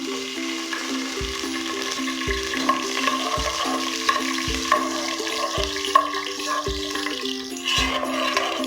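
Bay leaf and fennel seeds fry in hot oil and ghee in a pressure cooker for mutton biryani, with a continuous close sizzle and crackle and regular metallic ladle knocks against the pot.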